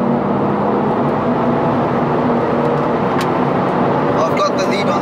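A BMW 335d and a BMW M140i accelerating side by side in 4th gear from about 40 mph, heard as a steady loud engine drone and wind roar from inside a car, with voices over it.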